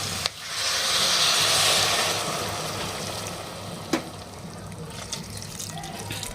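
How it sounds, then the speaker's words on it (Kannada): Water is poured into a pav bhaji masala mix in a pressure cooker, a gushing stream that swells early then fades, followed by a couple of sharp utensil knocks. "ಸ್ವಲ್ಪ ನೀರು ಹಾಕೊಳ್ಳೋಣ್ರಿಪ್ಪ."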